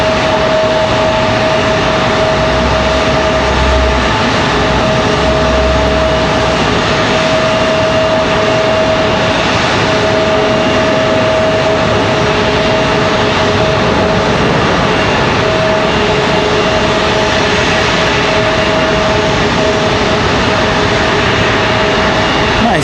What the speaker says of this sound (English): Nice touchdown for JetBlue from San Juan.